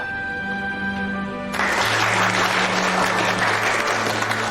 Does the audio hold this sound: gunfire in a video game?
no